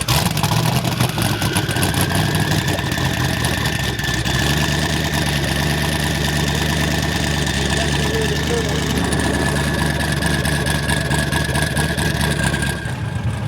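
A twin-turbo LS V8, a 5.3-liter aluminum block de-stroked to 4.8 liters, idles in an '86 Toyota pickup with a steady, close, rumbling drone that holds evenly for the whole stretch.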